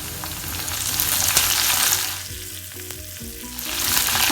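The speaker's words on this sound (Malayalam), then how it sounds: "ഇതിൻ്റെ പച്ചമണമൊക്കെ ഒന്ന് മാറുന്ന വരെ, നന്നായി മൊരിയുന്ന വരെ ഒന്ന് ഇളക്കി യോജിപ്പിക്കാം." Crushed garlic and curry leaves fry in hot oil in a pan for a bitter gourd dish, a loud, steady, close sizzle that swells and eases as it is stirred, with no talking.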